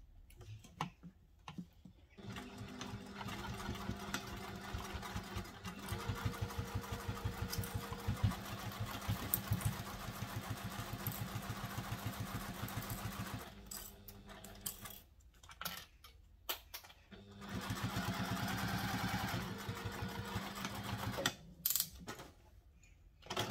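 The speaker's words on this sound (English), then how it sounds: "Now we're going to sew that up with the seam allowance stated in the pattern." A sewing machine stitches the seam of a fabric sling bag in a fast, steady mechanical run of needle strokes, pausing briefly near the start and again partway through before starting up again.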